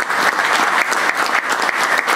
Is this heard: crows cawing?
no